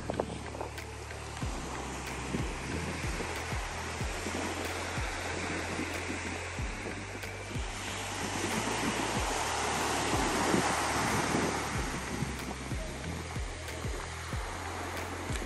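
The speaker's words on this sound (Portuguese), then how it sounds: "E aqui a gente já tem areia preta, vulcânica e o mar. Hoje está com a maré bem alta." Sea waves breaking at high tide on a black volcanic sand beach in Panama, a continuous roaring surf with repeated crashing surges and a louder swell toward the middle.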